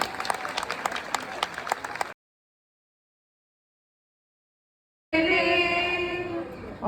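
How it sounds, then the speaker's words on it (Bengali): Staff at an office annual celebration clap in a lively burst of applause for about two seconds, followed by a sudden silent gap and then an unrelated steady droning sound. "জোরে হাততালি"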